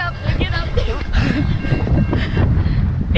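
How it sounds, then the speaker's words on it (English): A long CSX tanker freight train with four engines, led by a foreign Norfolk Southern locomotive, passes close by in a steady loud rumble and rattle, with wind buffeting the microphone. "Here comes another train."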